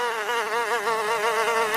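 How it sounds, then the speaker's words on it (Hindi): Mosquitoes buzz close by with a steady, loud whine whose pitch wavers continuously, carrying alone throughout without any talking. "उसे काफी ज्यादा मच्छर परेशान करने लगते हैं"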